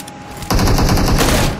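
Loud, close automatic gunfire in PUBG Mobile, a rapid burst of shots starting abruptly after a brief quieter lead-in and running to the end.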